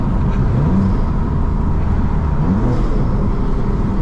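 A manual BMW M3 accelerating hard on a Florida road, a loud, close engine drone with rising pitch sweeps as it climbs through the revs, heard from inside the car.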